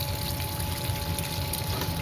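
Water runs steadily as it irrigates crossandra plants in a garden bed, a continuous low pouring flow with soft trickling and no voices.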